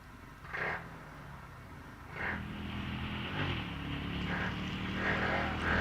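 Two 500cc racing cars, a Hornet and then a Cooper, climbing the Wiscombe Park hillclimb course, engine noise growing from distant bursts to a sustained, rising drone as they approach.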